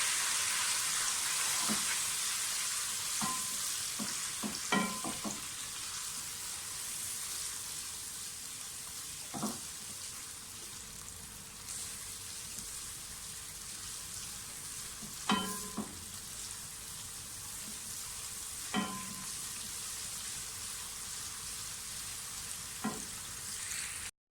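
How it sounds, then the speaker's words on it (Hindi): Garlic, ginger and green chili paste with whole spices sizzles and fries steadily in a pan for chicken korma, with occasional scraping stirs and clinks of a spoon against the pan, no voices. "लहसुन अदरक का पेस्ट, हरी मिर्चों का पेस्ट अच्छी तरह से भून जाए"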